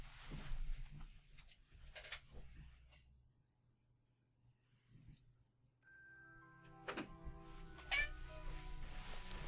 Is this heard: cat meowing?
yes